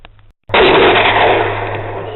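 Video game sniper rifle fire: a single loud, sharp report bursting after a brief silence and trailing off in a long, rolling echo, with faint sound effects just before it.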